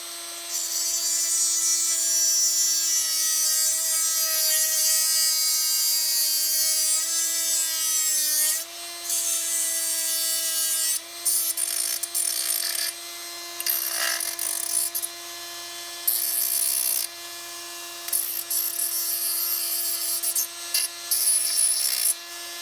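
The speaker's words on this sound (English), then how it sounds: "I'm going to cut this down off of the end here" A servo rod for a large model is sawn through at one end, producing a steady, close, rasping back-and-forth saw sound that runs for about twenty seconds with a few short pauses near the end.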